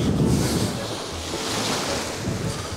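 Ocean waves breaking on an Irish beach, a continuous washing surf mixed with gusty wind buffeting the microphone, fairly loud and close, with no talking.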